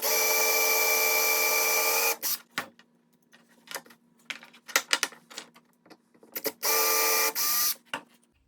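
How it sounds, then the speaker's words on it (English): A power drill whines loudly for a couple of seconds drilling through a slingshot, followed by clattering and scraping, then the drill spins up again in two short bursts. "Go ahead and drill all the way through."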